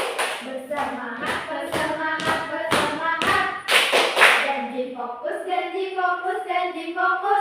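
A classroom group performs the rhythmic 'tepuk janji fokus' clapping chant: a steady run of sharp, close hand claps over chanting voices, after which the clapping stops and the group keeps chanting.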